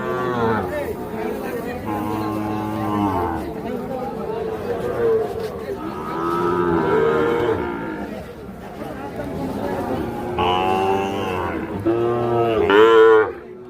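Several cattle moo loudly in long, repeated calls at a crowded Ambari cattle market where Sahiwal and Gir bulls are sold, with people chattering in the background between the calls.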